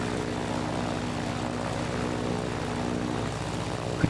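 A Grumman F4F's engine and propeller drone loudly and close just after takeoff, a steady throbbing roar with a rhythmic buzzing pulse held evenly throughout, with no talking.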